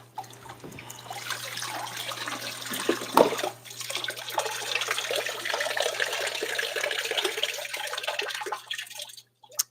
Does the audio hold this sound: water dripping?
yes